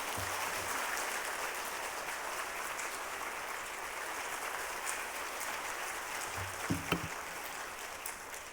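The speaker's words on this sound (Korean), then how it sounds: "우리 박수로 목사님 맞이하겠습니다" A church congregation at a Wednesday service claps to welcome the pastor, a faint, distant, continuous rush of many hands lasting several seconds, with a few soft knocks near the end.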